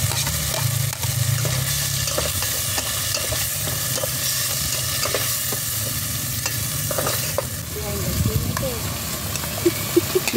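Garlic sautéing in a pan on a farm, a steady loud sizzle and fry with stirring scrapes, while a voice talks over it.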